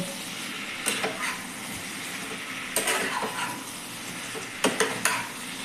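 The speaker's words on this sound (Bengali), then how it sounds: "এবার এটাকে আমি মশলার সঙ্গে ভালোভাবে মিশিয়ে নেব।" Young jackfruit pieces are stirred through spices in a hot pan. The sizzle runs steadily underneath, and about three bursts of scraping and clattering stirring stand out close by.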